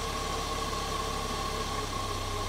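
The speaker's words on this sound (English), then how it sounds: "I'm going to lower pressure and listen to the engine." Bosch K-Jetronic fuel-injected engine running steadily at a faint, even idle while fuel pressure is lowered to make it run rich, a low continuous hum with no talk.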